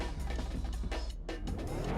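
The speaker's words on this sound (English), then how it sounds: "The M6 chassis Mustang with the Jaguar V8 sounds." Mustang on an M6 chassis with a swapped Jaguar V8 in the video game Tokyo Xtreme Racer Drift, engine revving and pulling with brief lifts off throttle, steady and fairly close, no talk over it.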